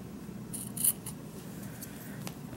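Scissors snipping through paper for a retro kitchen journal, a few quick faint close cuts over a steady low room hum.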